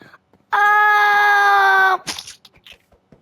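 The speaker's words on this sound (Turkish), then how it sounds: "Çığlık sesleri var kanka." A loud sustained scream in a horror video game, one long wavering cry lasting about a second and a half, followed by softer scattered sounds and a brief breath or murmur.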